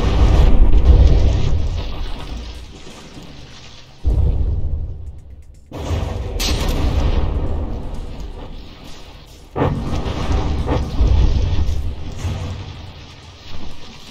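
Battleship main guns firing and shells exploding in the naval combat game From the Depths, Tillman against New Hampshire: heavy booming blasts, each with a long rumbling decay, arriving in several distinct salvos spaced a few seconds apart.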